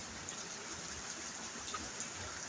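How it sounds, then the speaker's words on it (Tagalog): Steady rain hisses softly during the rainy season near a pigeon loft, a faint, even wash of falling drops with no voices. "Lalo sa panahon ng tag-ulan, kagaya nito."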